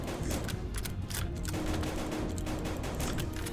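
Dense, continuous turret gunfire in the shooter game BITGUN, a loud unbroken barrage of rapid automatic shots filling the whole stretch with no talk over it.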